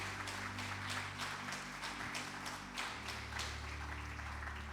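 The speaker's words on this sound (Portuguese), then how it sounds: "Aplauda ao Senhor Jesus" A church congregation applauds during a worship service, a steady, faint patter of many hands clapping together over a low background hum for several seconds.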